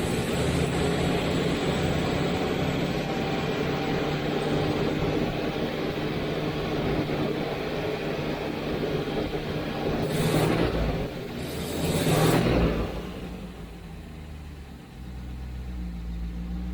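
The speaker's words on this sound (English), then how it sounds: "We've got idle speed just below 800 RPM. The draw on both carburetors is exactly the same." Car engine with twin carburetors and a Bosch coil idling just below 800 RPM, a steady low rumbling drone throughout, with two brief louder whooshing bursts near the end before it settles back to a smooth idle.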